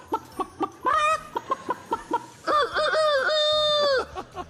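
A man imitates a little rooster with his voice. A run of short clucking notes leads into two drawn-out crowing calls, close and loud, with no other sound.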